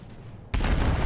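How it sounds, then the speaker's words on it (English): The Yamato battleship fires a salvo of shells in World of Warships, a sudden loud booming blast that cuts in halfway and rumbles on, with no talk. "Yamato shooting out all those shells"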